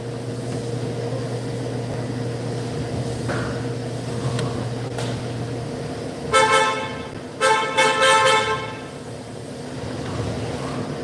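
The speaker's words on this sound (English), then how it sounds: "We heard you the first time you honked the damn horn" Car horn honks in two short bursts, a single toot followed by a double honk, sounding over a steady idling engine hum in a garage setting while a 2021 Jeep Cherokee 3.2L is being worked on.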